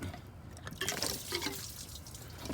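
Coolant drains out of a 2014 Dodge Ram 1500 with a 5.7 Hemi during a thermostat replacement, a steady splashing, dripping liquid close by that swells and eases over a couple of seconds.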